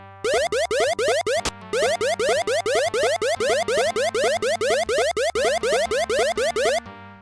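Combat bleeps from the Ultima VI computer game during a fight against insects, a rapid, relentless train of identical electronic chirps and sweeping blips, steady and repetitive for several seconds over a faint low hum, with no talk.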